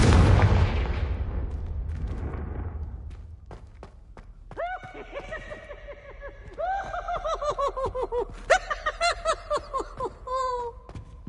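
A Confringo blasting spell fired in Hogwarts Legacy, with a loud booming burst that rumbles and fades over a few seconds, followed by quieter bright, ringing tonal game sounds.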